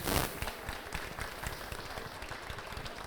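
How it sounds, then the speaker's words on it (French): Attendees at an agricultural carbon conference at the Paris farm show clap for enrolled farmers; fairly faint, scattered applause with distinct individual claps heard up close, steady for a few seconds. "je pense qu'on peut applaudir tous les agriculteurs qui sont engagés"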